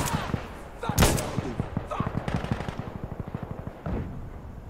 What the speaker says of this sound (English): he's shooting me through the floor?